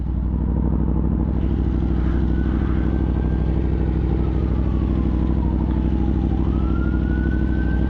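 A fire truck siren wails faintly in the distance, rising and falling slowly over the loud, steady drone of a motorcycle engine idling or cruising close by.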